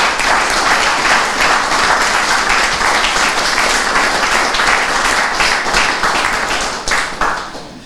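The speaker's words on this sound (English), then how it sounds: "Let's give all of our candidates a hearty round of applause." Sustained, loud audience applause for election candidates at an evening election-night event in Hamilton, 2015, steady clapping from a full room that tapers off near the end.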